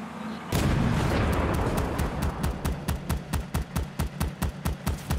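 A tank firing in the video game World War 3, heard as a heavy, loud blast that opens into a rumbling roar, followed by a rapid, regular string of booming shots.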